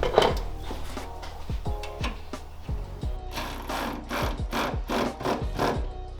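Nut being tightened on a bonnet strut of a Mitsubishi Pajero Sport, a run of sharp metallic ratcheting clicks and taps spaced irregularly, close and fairly loud, with no talking.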